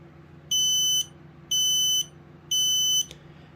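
Three loud, high-pitched electronic beeps from a Kidde smoke alarm being tested, evenly spaced about a second apart, over quiet room hum.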